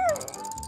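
A cartoon hound dog whimpers with a short, falling whine at the start, then a quieter, drawn-out whimper trails off over under a second.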